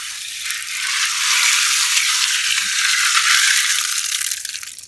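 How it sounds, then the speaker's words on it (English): Water poured over rocks in a planting container for a cherry tree drainage test, a steady broadband rush and trickle that swells after a moment, holds, then tapers off at the end, close and alone. "And now I'm going to do the water test to make sure it drains well."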